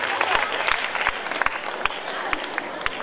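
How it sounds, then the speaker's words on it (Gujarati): An audience at a school annual day celebration applauds a prize announcement, with dense crowd clapping sustained throughout and a few sharper individual claps standing out. "જોરદાર તાળીઓથી આપણે આ ઇનામને વધાવીએ"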